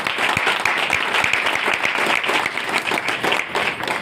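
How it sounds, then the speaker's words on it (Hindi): Audience applause at a motivational gathering, a steady, dense wash of many hands clapping close and loud for about four seconds, with no talk over it. "एक बार जोरदार तालियां"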